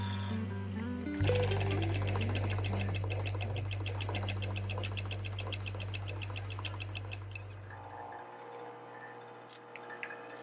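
A sewing machine stitches the pinned hood lining of a fabric hoodie, a fast steady run of needle ticks for several seconds before slowing and stopping, with a couple of faint stray clicks afterward.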